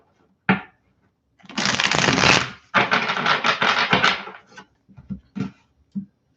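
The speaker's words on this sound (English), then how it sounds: "let me do one more shuffle here." A deck of tarot cards being shuffled by hand at a table: a single sharp tap, then two long rustling, riffling bursts, followed by a few soft, scattered card taps and flicks, all close and fairly loud.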